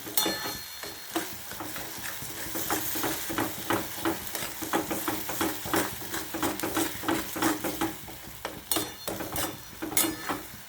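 Fenugreek leaves and half-boiled peas are stir-fried in a pan, with a steady oily sizzle under repeated rhythmic scrapes and clacks of a spatula against the pan, close and fairly busy throughout.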